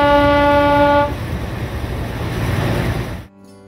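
The Darjeeling toy train, the 52541 NJP passenger from New Jalpaiguri, sounds a long loud horn, then runs on with a steady rumbling clatter of wheels before cutting off abruptly.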